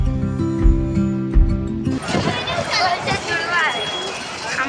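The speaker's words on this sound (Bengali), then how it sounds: "আজকে রবিবার ছুটির দিন তবুও দেখো হাওড়া স্টেশনে আজকে কত ভিড়" A dense crowd murmurs and bustles in the large echoing hall of Howrah railway station, with a sustained tonal hum at the start before the busy chatter takes over.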